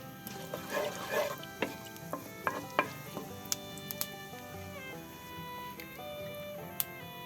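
Half a spoon of cumin seeds fries in oil in a pan, giving a soft, close sizzle with irregular small pops and ticks that space out over time, with no talk.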